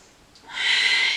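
A single soft nasal breath rises into a steady airy hiss during a gentle low-back yoga practice, close and quiet, alone without talk.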